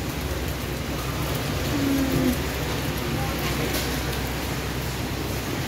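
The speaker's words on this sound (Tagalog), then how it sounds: "Nabutan kami ng ulan." Rain pours down steadily outdoors as a dense, loud hiss that fills the whole scene without a break.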